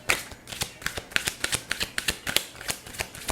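Romance Angels tarot cards are shuffled by hand close to the listener, a quick series of crisp riffling snaps and flicks in an uneven rhythm with no voices.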